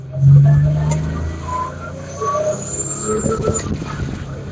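A Porsche 930 turbo engine revs and pulls hard, a loud low growl building as it accelerates, with a high turbo whine rising over the top.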